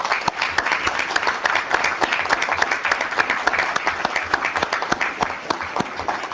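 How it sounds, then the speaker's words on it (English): A crowd at a meeting applauds a fire department, with dense, continuous clapping and distinct individual claps standing out, steady for several seconds. "A nice round of applause for this fire department?"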